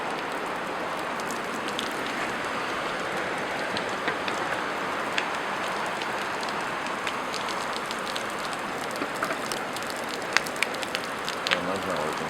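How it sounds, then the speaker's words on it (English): Steady broadband hiss of heavy rain pouring down in a rainstorm, with scattered sharper drops striking a surface, continuous and fairly loud throughout. "A rainstorm."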